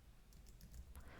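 A command being typed on a computer keyboard gives a quick run of soft, light key clicks at close range, very quiet.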